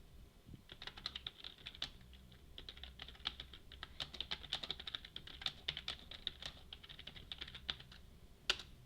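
Rapid, forceful keyboard typing, dense clattering keystrokes in quick bursts with brief pauses, close and fairly prominent.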